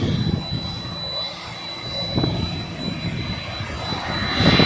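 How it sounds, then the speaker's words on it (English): A DHL Boeing 767-300ER with GE engines arrives at LLA airport. Its jet roar is loud and sustained, swelling slightly toward the end. "the DHL 767. Beautiful arrival."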